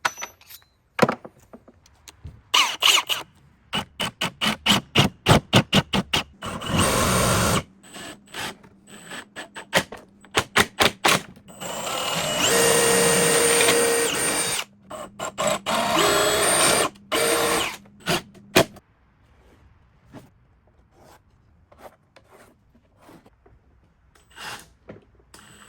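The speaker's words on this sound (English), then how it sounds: "here you have the drill bit for the pocket jig" A power drill bores pocket holes through a pocket-jig drill bit, starting with short rapid trigger bursts, then longer loud grinding runs, then tapering off to quiet handling clicks.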